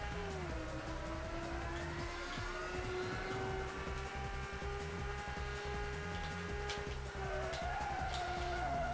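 A car drifts and skids in the PlayStation racing game Rage Racer, with a continuous droning engine whose pitch sweeps up and down and squealing tyre tones, loud and steady throughout with no talk.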